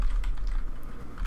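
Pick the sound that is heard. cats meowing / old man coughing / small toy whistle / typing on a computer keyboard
typing on a computer keyboard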